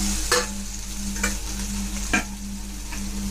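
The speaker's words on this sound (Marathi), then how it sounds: "त्यामध्ये आता मी ही भाजून घेतलेली भेंडी घालून घेते." Okra frying in onion paste, a steady close sizzle punctuated by three or four sharp scrapes of a spoon stirring the pan.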